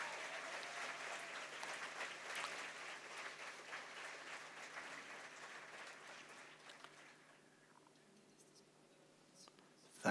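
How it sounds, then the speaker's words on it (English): A symposium audience gives moderate applause for an organizer, a soft, steady patter that tapers off into near silence before a sudden sound at the very end. "I would also like to ask for a big round of applause for Eva Maria Holzleitner"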